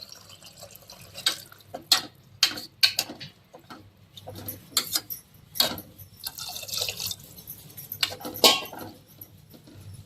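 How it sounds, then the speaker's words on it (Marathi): Irregular splashes and drips of water being poured into toor dal with fenugreek, close by, in short bursts with quiet pauses between, no one speaking. "जेवढं आवश्यक पाहिजे तुमच्या ह्याच्याप्रमाणे तेवढं तुम्ही ह्याच्यात पाणी टाकायचं"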